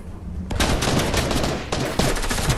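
Video game gunfire in a sticky swamp level, a fast run of crackling shots going on throughout, dense and loud with a sharper burst near the end.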